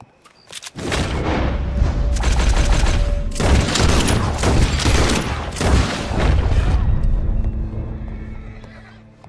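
Rapid revolver gunfire in the Western video game Red Dead Redemption 2, a loud burst of repeated shots fired from two Colts, mixed with horse whinnies and hoof clops, then fading to ambient background.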